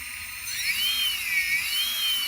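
A model aircraft outrunner electric motor runs through an ESC, giving a steady high-pitched electric whine whose pitch gently rises and falls. It is close and continuous, with no voices.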